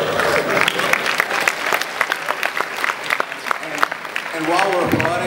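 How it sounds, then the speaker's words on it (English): Loud, dense crowd applause fills a Comic-Con panel hall in San Diego for the Mike Tyson Mysteries cast, sustained clapping with a few cheers, and a voice begins talking over it near the end. "while we're applauding"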